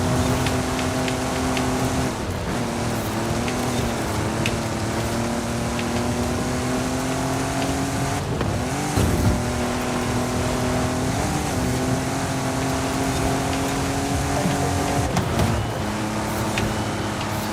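An off-road car drives in Forza Horizon 5 on expert difficulty, its engine droning loud and steady with repeated gear shifts as pitch climbs and drops, plus a few bumps and scrapes, with no talking.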